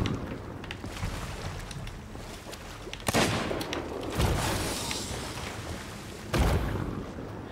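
Bursts of video game gunfire aimed at sharks, a rolling fusillade of shots with sharper, louder blasts breaking through at intervals, heard alone without talk.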